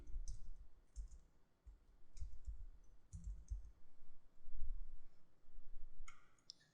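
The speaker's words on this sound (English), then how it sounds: "we're going to type it in the same way we did the last one" Typing on a computer keyboard comes as quiet, scattered bursts of clicking, close and soft, with short gaps between groups of keystrokes.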